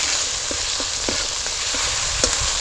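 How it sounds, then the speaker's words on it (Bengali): Potato and cabbage mixed with tomato and salt are stirred and fried, giving a constant loud sizzle with a few soft scraping knocks of a spoon against the pan. "এবার সব কিছু একসাথে ভালো করে একটুখানি নাড়াচাড়া করে ভেজে নিতে হবে"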